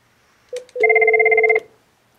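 An office desk telephone rings for an incoming call: a short electronic chirp, then one longer warbling tone lasting under a second, loud and close, with quiet afterward.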